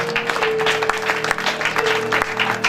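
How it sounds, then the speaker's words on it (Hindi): A congregation claps hands in praise during a Christian worship prayer meeting, a loud sustained burst of many hands with a strong rhythmic pulse, a held musical tone underneath and no speech. "दिल से ताली बजाइए"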